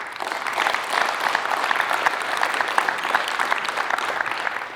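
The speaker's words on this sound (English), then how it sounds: "Can we give these guys a round of applause?" Audience applause at a basketball coaching session on movement without the ball, steady dense clapping holding at even loudness for several seconds, with no talk over it.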